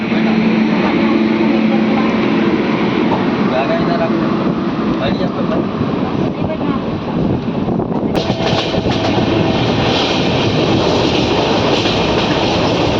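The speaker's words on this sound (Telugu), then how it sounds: "మంచిర్యాల నుంచి మన ట్రైన్ బయలుదేరింది." From inside the Sirpur Kagaznagar–Secunderabad superfast express just out of Mancherial, a loud continuous rumble with clickety-clack wheels, some air-conditioning hum and a voice talking over it.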